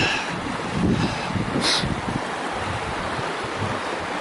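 A creek runs beside a hiking trail near the Cline River, a steady broadband wash of flowing water with wind buffeting the microphone. A brief brighter splash stands out midway, and no one speaks over it.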